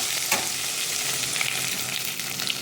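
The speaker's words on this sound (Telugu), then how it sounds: "ఈ పోపుని పప్పుచారులో వేసేసుకుందాం" A garlic tempering hits a pot of Andhra-style pappucharu (lentil rasam), giving a loud, steady sizzle and crackle with a sharp splash near the start and no talking.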